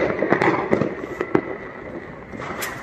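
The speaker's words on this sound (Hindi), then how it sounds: "पापा बम फोड़े जा रहे हैं" Firecrackers burst during a Diwali celebration in Jaipur: a few sharp cracks ring out close together in the first second and a half, then a fainter crackle trails off.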